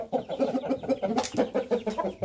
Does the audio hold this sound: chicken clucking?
yes